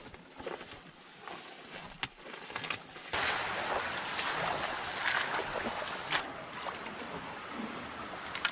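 A canoe paddled across calm, misty water on a wilderness fishing trip, a steady close wash of paddle strokes and water under faint outdoor ambience, with no talking.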